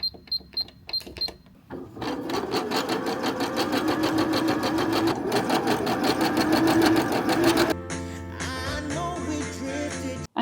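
A sewing machine gathers fabric side panels, starting with a few single clicks, then running steadily at a fast, even whir for several seconds before shifting to a slower, different mechanical hum.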